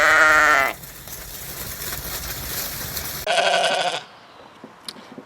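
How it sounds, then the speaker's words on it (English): Icelandic sheep bleat loudly and close, with a long harmonic cry at the start and a second wavering bleat a few seconds later, over steady outdoor background noise and no talk. "one thing to consider with sheep is, unlike goats and cows, they're really loud"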